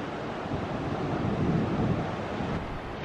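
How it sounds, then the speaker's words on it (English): Waves wash onto an empty beach at Bedruthan Steps, a steady, broad roar of surf mixed with wind buffeting the microphone, with no voices. "We're on the beach! An empty beach."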